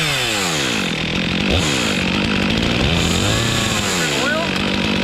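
A big Stihl chainsaw idling and revving during land clearing, running with an odd buzzing tone: a loud, close, continuous engine drone rising and falling in pitch, with people talking over it.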